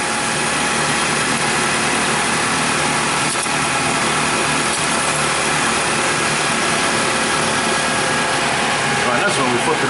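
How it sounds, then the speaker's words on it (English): A Toyota Camry engine idles in park with the transmission engaged for a fluid check, giving a steady, continuous mechanical hum that holds even and close throughout. "So you want to do this with the engine idling in park."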